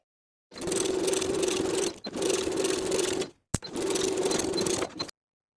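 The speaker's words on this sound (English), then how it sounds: "Top stitch that top fold of the flap by about 1/4 of an inch" A sewing machine top-stitches the folded pocket flap of a shirt jacket in three steady whirring runs of about a second and a half each, separated by short pauses, close and even in tone.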